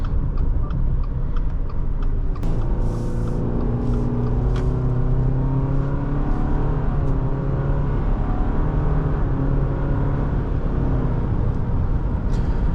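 A 2024 Subaru Forester Wilderness accelerates hard from a standstill, its engine note climbing steadily through the run, heard from inside the cabin over a broad road roar.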